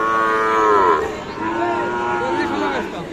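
Sahiwal breed bull calves, about seven to eight months old, moo loudly and close by in two drawn-out, falling calls, the first longer and stronger, with a noisy outdoor background.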